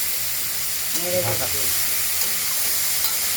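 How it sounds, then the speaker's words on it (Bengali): Taro and ridge gourd fry in an uncovered pan at home, giving a continuous loud sizzle with steam hiss and a brief stirring clatter partway through. "ঢাকা খুলে নেড়ে দিলাম।"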